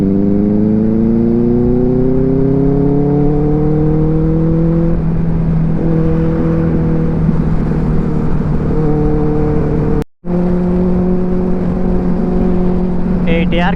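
A Benelli TRK 502 motorcycle on a weekend ride gives a loud, steady engine drone with strong tonal harmonics that shift slowly in pitch. The sound cuts out briefly once before the engine returns.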